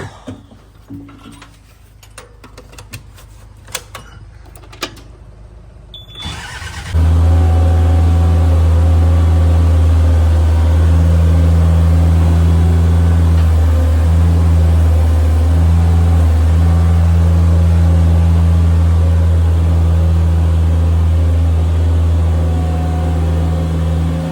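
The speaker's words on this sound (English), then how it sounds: "Now let's grab the skid loader and grab some bales." After a few seconds of quiet clicks, a skid loader's heavy diesel engine starts up and idles loudly and steadily, a deep rumbling drone close by.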